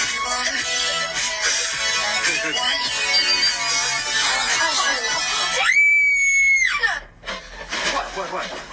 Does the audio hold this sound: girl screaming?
yes